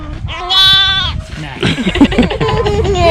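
Sheep bleating on a farm outing: a long wavering bleat up close, followed by further animal cries mixed with voices talking nearby.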